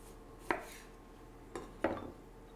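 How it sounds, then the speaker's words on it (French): A knife cuts a lime in half on a board, with three sharp, close taps spaced unevenly in a quiet kitchen and no talking. "Je coupe la lime en deux"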